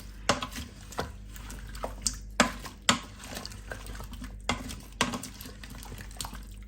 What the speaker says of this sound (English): give everything a good stir